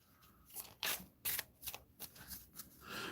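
Playing cards shuffled by hand at a tabletop game session, a series of quick riffling bursts and soft snaps, fairly close and clear with no talking.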